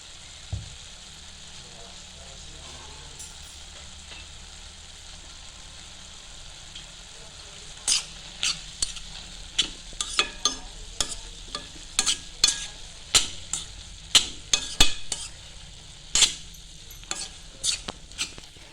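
Fenugreek greens and val beans frying in a pan under a steady soft sizzle, joined midway by a run of sharp spatula scrapes and taps against the pan.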